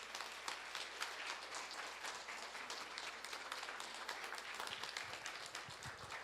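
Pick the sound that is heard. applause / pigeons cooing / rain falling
applause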